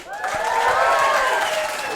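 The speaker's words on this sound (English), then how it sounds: "Can we have a big round of applause for the hen and chicken?" A comedy podcast crowd at the Hen and Chicken venue cheers and whoops loudly over clapping in a short, full burst, with sliding shouts riding on top of the applause.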